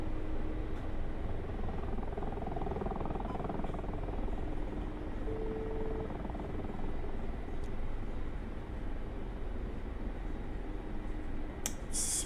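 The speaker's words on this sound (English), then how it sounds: "Pretty fast helicopter." Mi-24P Hind attack helicopter in the DCS flight simulator, a steady loud rotor and turbine drone holding evenly throughout, with a brief sharper burst near the end.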